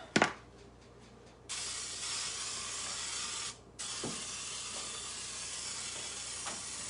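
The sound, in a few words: spritzing pressurized oil sprayer over vegetables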